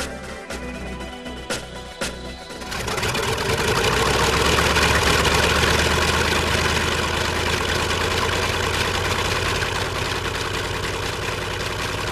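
Wartime B-25C Mitchell bomber engines run with a deep, continuous radial-engine drone that swells from sputtering starts into a loud, steady roar, heard close and alone.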